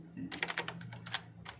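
Typing a key name on a computer keyboard, a brief run of close, distinct key taps at moderate volume with a low background hum.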